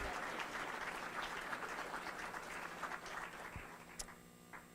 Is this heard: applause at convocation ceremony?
yes